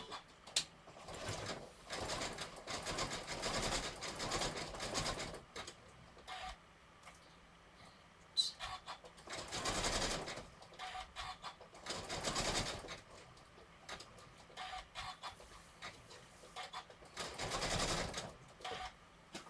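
A sewing machine stitches a rope handbag, joining grey rope to green, its motor whirring in long bursts with short pauses in between, close and fairly quiet, with no voices.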